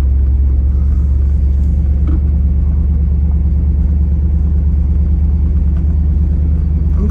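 A 1989 Chevrolet Camaro IROC-Z muscle car engine idles with a steady, deep, loud rumble close by, its low throb continuous and unbroken throughout with no talk.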